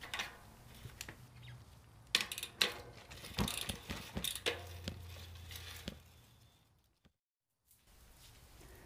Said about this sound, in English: And now we can reinstall our cassette.